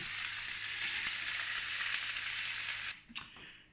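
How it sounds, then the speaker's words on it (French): Fish sizzles steadily in a hot frying pan, a dense, close crackle that runs loud for about three seconds and then cuts off sharply as the pan leaves the heat, leaving a few faint clinks. "Vous n'avez plus qu'à tourner votre poisson et sortir immédiatement votre poêle du feu."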